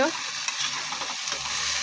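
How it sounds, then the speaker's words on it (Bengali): Okra frying in a pan with onion and dry red chillies gives a close, steady sizzle with soft stirring scrapes throughout. "এখানে ভেন্ডি ভাজাটা চাপিয়ে দিয়েছি"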